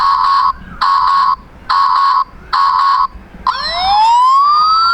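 A mini RC fire engine toy truck blares its electronic siren, four loud repeated wailing pulses followed by a rising sweeping tone, close and piercing.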